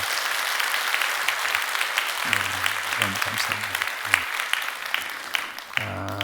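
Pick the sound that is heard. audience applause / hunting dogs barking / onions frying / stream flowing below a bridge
audience applause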